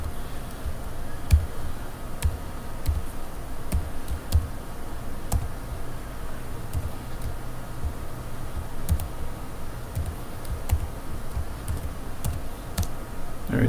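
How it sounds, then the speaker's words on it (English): Typing on a computer keyboard while setting up a Linux VPS, sparse clicking keystrokes in short irregular bursts with pauses, moderately close over a faint steady hum, no talking. "Alright, so let's do it old school. Let's type it in."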